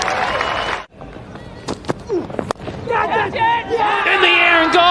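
A cricket crowd cheering and shouting at a Bangladesh versus New Zealand Test match, a loud roar of voices that drops out briefly, then swells again with whistles and yells.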